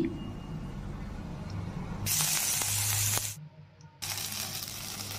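Chopped ginger dropped into hot mustard oil already holding dried chilli, bay leaf, cumin and five-spice seeds: a broad, steady hiss of sizzling that suddenly grows louder midway, briefly cuts out, then resumes, close and continuous.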